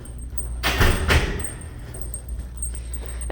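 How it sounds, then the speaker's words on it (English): A stuck door yanked hard, giving two heavy rattling thuds close together near the start, then quieter handling noise with a faint high background whine. "When you pull, it might get stuck. Like right now, I'm pulling very hard, but it's stuck."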